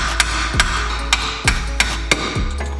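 A hammer strikes metal repeatedly while a rear brake rotor and caliper bracket are swapped on a car, six or so sharp ringing blows in an uneven rhythm, close and loud.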